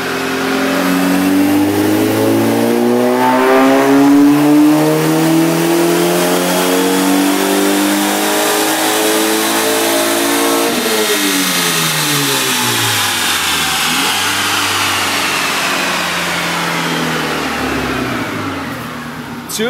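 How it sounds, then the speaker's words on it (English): A tuned MKVI car engine on a dyno revs hard and loud for a long, steady run, its pitch climbing through the pull and then sweeping back down, with no voices over it. "how high do you want to rev it?"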